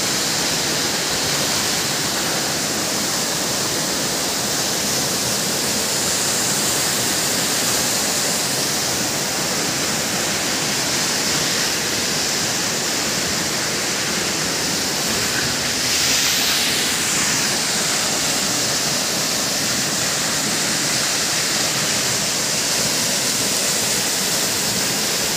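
Abungan Falls in Dingalan, Aurora, pours with a dense, continuous rushing roar. The loud, wide hiss of water stays unbroken throughout, recorded close to the falls, with no voices.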